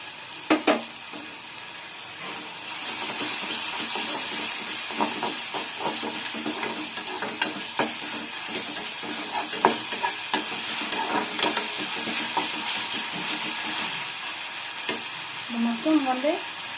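Ginger and garlic sizzling in a pan with frying onion, a steady loud hiss broken by scraping stirs and clinks from a spoon against the pan, close by.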